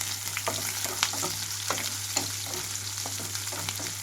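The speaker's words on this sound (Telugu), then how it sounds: "కట్ చేసి పెట్టుకున్న ఉల్లిపాయలు పచ్చిమిరపాయలు అలాగే కరివేపాకు వేసి వేయించుకుంటున్నాను" Sliced onions, green chillies and curry leaves frying in a pan of tempering over a low flame, a close continuous sizzle broken by light scraping stirs at an irregular pace.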